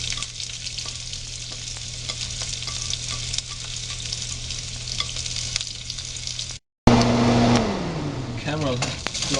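Onion and chillies frying in oil for a spicy brinjal curry, a steady close sizzle with stirring clicks, cut by a short gap, then louder frying as a steady engine-like hum and a voice come in.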